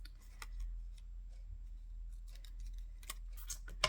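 Scissors snipping paper cutouts for a collage: a few short, crisp snips scattered irregularly over a quiet background.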